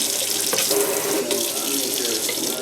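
Water runs steadily from a newly installed faucet at a lighthouse home, a close, continuous hissing splash with a couple of brief knocks, no talk over it.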